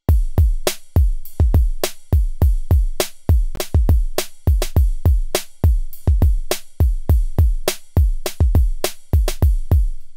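A Roland XV5080 ride cymbal layered with a lounge drum beat in the style of 2001 PS1/PS2 lounge music plays a steady, tightly repeating pattern of punchy kicks and crisp decaying hits, loud and close with no talking.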